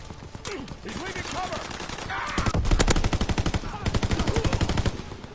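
Gunfire in a PS4 shooter game, rapid machine-gun bursts that build into a loud, sustained rattle of evenly spaced shots, with a voice speaking over the early part.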